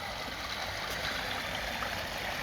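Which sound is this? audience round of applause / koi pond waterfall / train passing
koi pond waterfall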